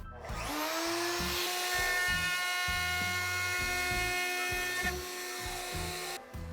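High-pitched whine of a sander shaping a part for a large battery box, running steadily for several seconds up close, with knocking and thumping underneath and a brief drop near the end.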